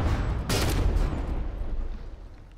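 A heavy cannon shell slams into a warship turret in the naval combat game From the Depths, one loud explosive boom with a sharp burst and a rumbling tail that fades over a couple of seconds.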